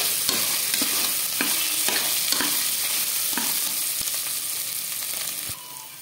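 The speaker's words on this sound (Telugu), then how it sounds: "నెక్స్ట్ దీనిలో గ్రీన్ పీస్ అయితే యాడ్ చేసుకోవాలి. వీటిని కూడా ఒకసారి బాగా ఫ్రై చేసుకోవాలి." Green peas frying in a pan for palak rice, with a constant sizzle and regular spoon scrapes and stirs, loud and close, easing slightly at the very end, with no talking.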